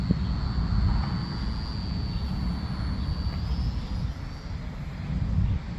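A small Vevor T28 Trojan (XK A210) RC park-flyer airplane on a 1S lipo flies slowly into the wind, a steady thin high motor whine over broad wind rumble, continuous and moderately near, no voices.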